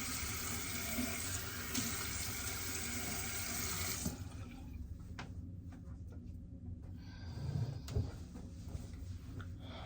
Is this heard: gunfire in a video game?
no